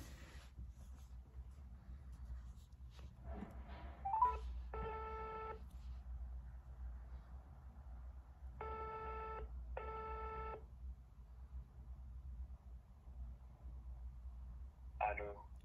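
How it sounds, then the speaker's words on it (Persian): A phone call rings out three times, each a short electronic ring tone separated by pauses, with faint room noise, a few clicks and brief soft voices between them. "یه زنگ بزنیم ببینیم اصلا برمیداره"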